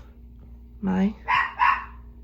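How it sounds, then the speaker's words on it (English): A dog in a house barks two or three times from the background, short sharp yaps in quick succession, mixed with a nearby voice in an indoor craft room. "Sorry about the dog in the background."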